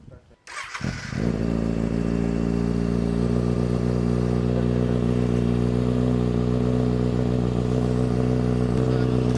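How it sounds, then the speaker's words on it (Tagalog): A motorcycle fitted with an aftermarket exhaust pipe starts up with a clatter and settles into a steady, loud, close idle with a deep throbbing note. "Pagka ano mo siya, ni-rev bomb mo, doon malakas. Kaya yun yung pinili kong pipe."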